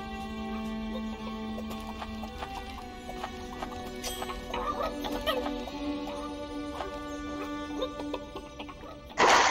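Chickens cluck in the prop-hunt video game Witch It, a busy cluster of bird calls over a game soundscape with clip-clop-like taps and rising activity, ending in a louder burst.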